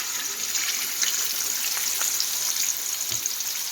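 A large pork chop fries in hot oil, giving a steady, crackling sizzle with scattered pops, close and moderately loud, with no talking.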